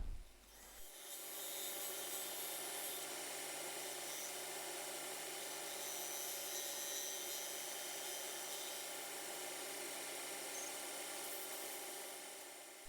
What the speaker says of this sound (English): So it's onto the bandsaw, then it'll be the sander